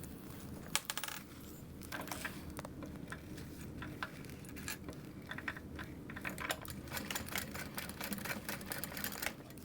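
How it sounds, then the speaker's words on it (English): Sewing machine top stitching through vinyl along the edge beside the zipper tape for a wristlet, a steady close run of quick mechanical ticking and clatter with no talking. "we're just top stitching along the edge closest to the zipper tape of our vinyl."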